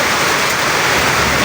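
Steady rain pours down outdoors, a loud, dense wash of drops hitting surfaces without a break.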